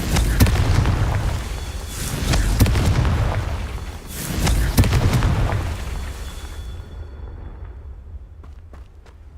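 A Confringo fire spell explodes in Hogwarts Legacy, delivering a few loud, booming blasts in close succession that swell and fade over several seconds before a quieter tail.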